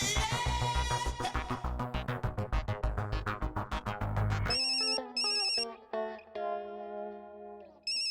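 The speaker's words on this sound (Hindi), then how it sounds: "फोन करके चेक करता हूँ माधवी कहाँ है" A loud electronic ringtone plays a fast, pulsing melodic pattern, then shifts to sparser tones that fade out near the end.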